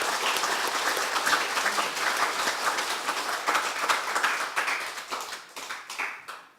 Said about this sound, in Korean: 이제 우리 다시 한번 우리 하나님 앞에 영광의 박수를 드립니다.